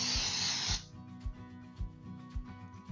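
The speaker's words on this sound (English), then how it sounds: "I'm going to use some baking spray in a 9x9 square dish" Baking spray sprayed into a 9x9 square baking dish: one short close aerosol hiss lasting under a second, followed by quiet room sounds.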